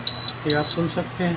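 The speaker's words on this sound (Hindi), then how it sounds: "ये बीप का आवाज़ आ रही है। यहाँ से देखें पैनल से" An ice maker's control panel sounds a high, repeating electronic beep in short bursts, with someone talking over it close by.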